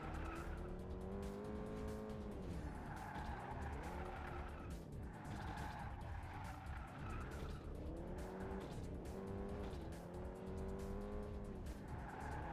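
A car in the Pursuit Force video game driving hard, engine revving up and down in repeated sweeps with tires squealing and skidding through turns, loud and continuous with no talking.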